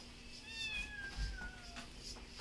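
A cat on a farm where chickens and dogs also roam meows a few times in quick succession, with rising and falling wavering cries, quiet and somewhat distant.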